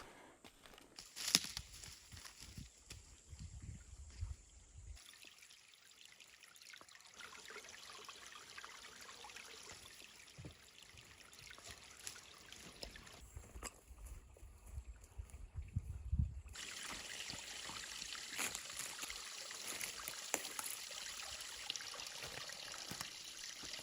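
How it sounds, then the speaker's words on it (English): Cold spring water flows out of the ground on a wooded mountainside, a soft continuous trickle that is fairly faint and steady, with no one speaking. "Cold, clean water just flows right out of the mountain."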